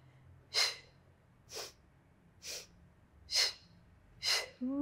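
During a Pilates workout class, five sharp, breathy inhales and exhales come in a steady rhythm about a second apart, close and fairly quiet, with no talking over them.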